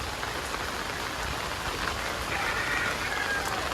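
Steady rain pours on a village hut in the monsoon, a dense, even hiss with scattered drip patter, unbroken and without voices.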